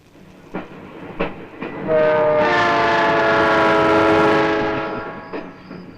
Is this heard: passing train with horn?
yes